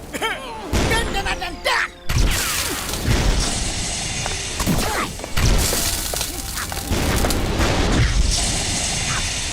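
Cartoon weapons loudly firing sleeping bombs in a superhero battle against Martian villains, with sustained dense blasts, booms and shattering bursts piling up almost continuously and a brief dip between volleys.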